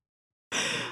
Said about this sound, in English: You are yawning too much.